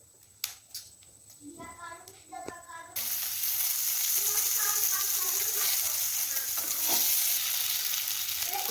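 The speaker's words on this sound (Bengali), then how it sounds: "এখন একে একে সবজি সবগুলো ভেজে তুলব। প্রথমে দেবো আলু" Potatoes dropped into hot oil with panch phoron for a fish curry: faint clinks and spluttering, then a loud, steady sizzle that keeps going to the end.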